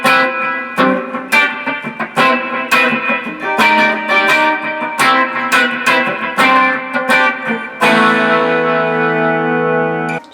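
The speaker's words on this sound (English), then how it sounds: "Kind of quick slap back echo." Les Paul Special electric guitar, slightly saturated, plays chords and single notes with a quick slapback echo repeating each attack, loud and close, ending on a long sustained chord.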